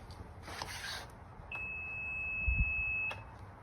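A 2004 Mercury 90ELPTO outboard engine's warning alarm gives one steady, clear high-pitched tone lasting about a second and a half. Faint boat and water rumble runs beneath it.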